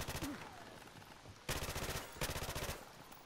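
Rapid automatic gunfire from a Modern Warfare Remastered prop hunt match, rattling in repeated bursts with short pauses between them, fairly quiet in the mix with a faint voice early on.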